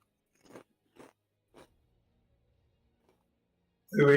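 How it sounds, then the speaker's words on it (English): Three short, close crunches a half-second apart in near silence, like someone biting into crisp food right by the microphone, followed by a burst of louder noise at the end. "Crunching? you crunching, yeah."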